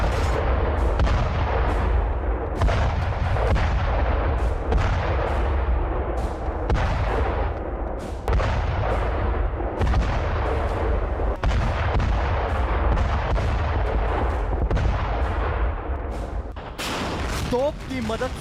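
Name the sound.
artillery gun firing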